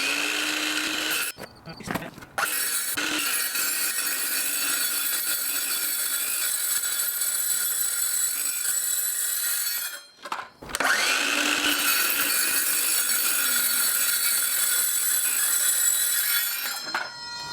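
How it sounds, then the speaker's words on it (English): A circular saw fitted with a metal-cutting blade cuts through a truck camper door, producing a loud, sustained high-pitched whine and screech close by. Brief pauses break the cut near the start and midway, and no one speaks. "And I got a metal circular saw blade."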